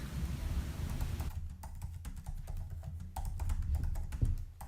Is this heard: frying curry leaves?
no